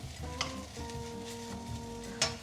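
Rice goes into a hot pan and is stir-fried for a simple home dinner, giving a steady close sizzle with scraping spatula strokes and a couple of sharp clinks, while a tonal hum runs underneath.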